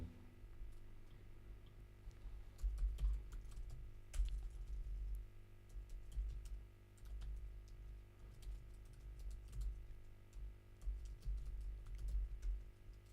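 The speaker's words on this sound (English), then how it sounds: "I can type the email." Typing an email on a computer keyboard during a live stream, with soft, irregular key clicks in scattered bursts, faint and close, over a low steady hum and no talking.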